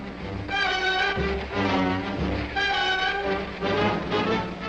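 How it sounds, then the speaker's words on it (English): A long freight train of over two hundred cars rolls along the banks of the Hudson toward New York, with a deep rumble, a rhythmic rolling of the cars and repeated horn-like tones rising and falling over several seconds. "The train nears its goal as it rolls down the banks of the Hudson to New York"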